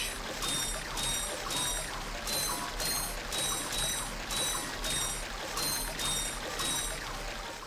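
Fresh water pouring steadily through an aqueduct in the 2002 game Ratchet and Clank, a continuous splashing rush with faint rhythmic metallic pulses repeating about every second.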